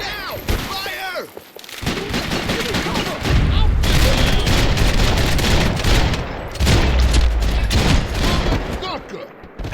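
Heavy gunfire and explosions in a Max Payne 3 firefight, dense sustained volleys with booming low thumps, loud and close, while voices shout over the din.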